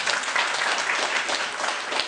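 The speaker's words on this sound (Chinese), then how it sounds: "大家给他一点掌声。" Audience clapping for a speaker at a public discussion on a nuclear power plant referendum, a continuous, fairly loud wash of many hands that stays even from start to finish.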